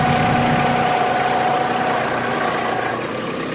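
An LS tractor engine idles steadily at close range, a constant rumbling drone with a faint humming tone and no voices.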